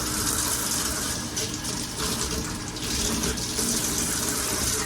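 Water runs steadily from a kitchen tap as food is rinsed for Sunday dinner, a continuous broadband splashing that stays fairly close and even throughout.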